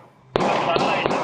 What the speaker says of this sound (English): Shocking dash cam footage shows 2 people trade gunfire in broad daylight